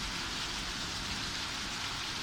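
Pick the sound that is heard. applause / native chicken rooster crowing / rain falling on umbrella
rain falling on umbrella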